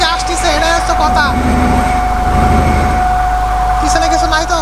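Video game trains on a Bangladeshi map passing one after another near the Padma Bridge, a loud continuous low rumble and drone with a steady tone, while people talk over it throughout.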